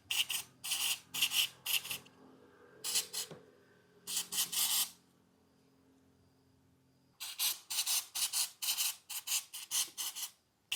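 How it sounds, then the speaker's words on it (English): Scrubbing of an Aprilia SR 150 oil drain bolt and oil strainer while cleaning them comes as bursts of rapid brushing strokes, close and fairly quiet, with pauses between sets and no talk. "the oil drain bolt and the strainer can be cleaned"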